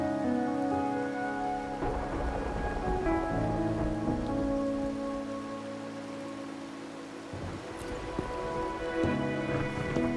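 Steady rain patters throughout behind a layered, sustained musical background in the video game Wuthering Waves, with no voices.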